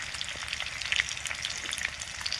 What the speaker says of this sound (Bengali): তো মাংসগুলা ভাজা হচ্ছে